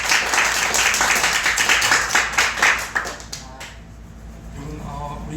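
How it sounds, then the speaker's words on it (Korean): A church congregation gives a round of welcoming applause during Sunday worship, brisk close clapping that runs for about three seconds and then stops, leaving a quiet room. "우리 환영의 박수 한번 같이 할까요?"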